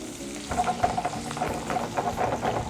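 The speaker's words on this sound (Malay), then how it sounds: "Masuk sikit daun kari. Dan kita gaul semua." Fish stir-frying with curry leaves and chopped ingredients for ikan goreng kicap, a steady sizzle with scraping stirring strokes repeating rhythmically, close and fairly loud with no talking.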